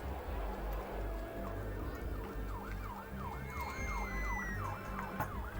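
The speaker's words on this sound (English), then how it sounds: "A siren just drove by my window" An emergency siren passes outside a window, its rising and falling wail repeating in a steady rhythm at moderate distance over low traffic rumble.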